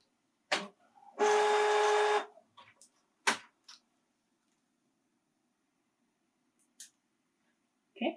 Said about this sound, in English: printer. Please stop.